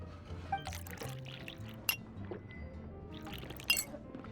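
A drink, juice or wine, pours into a glass in the video game Genshin Impact: a soft liquid trickle with a few sharp glass clinks standing out, near and fairly quiet, with no talking.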